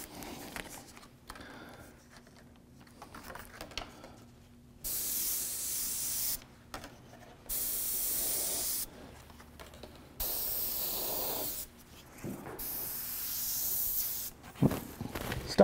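An airbrush sprays paint in short separate bursts of loud, breathy hiss, several of them, split by quieter gaps while painting realistic fire effects.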